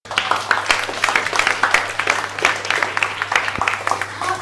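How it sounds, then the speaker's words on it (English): A small audience at a silly hackathon gives Team Durian Face a round of applause: dense, fairly close hand clapping that holds steady for several seconds before thinning slightly. "Let's give it a round of applause."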